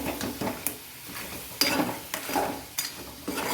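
Prawns being stirred in a pan for a coconut roast, with repeated scraping and clinking of a utensil against the pan over a faint sizzle, in a steady rhythm of close strokes.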